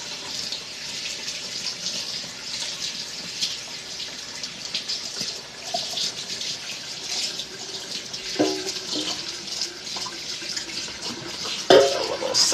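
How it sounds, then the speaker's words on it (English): Tap water runs steadily into a kitchen sink while a bowl is rinsed after scooping out apple cinnamon roll filling, a continuous close hiss and splash with a few clunks of the bowl near the end. "Let's wash this."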